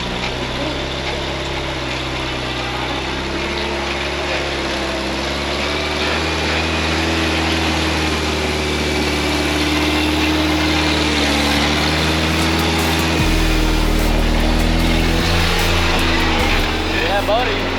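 A rock crawler buggy engine climbing a waterfall idles and revs loudly at close range, its note swelling and dropping as the throttle opens. Voices call out over the steady mechanical roar.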